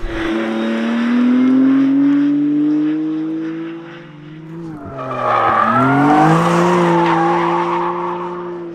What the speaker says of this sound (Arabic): خلينا نطلع جولة أكشن، دوس على الحلبة